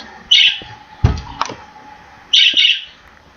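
Two short, bright bird chirps in a Minecraft game, separated by a couple of seconds, with a couple of brief clicks between them.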